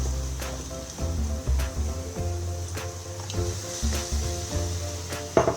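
Masala for a pao side dish frying in a pan, a steady low sizzle with occasional sharp pops and the scrape of stirring, close and continuous.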